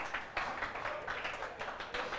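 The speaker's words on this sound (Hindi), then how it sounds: "ताली बजाओ।" Students in a class clap together in a quick rhythmic burst of claps, moderately faint and somewhat distant, the pattern of hand strikes repeating steadily throughout.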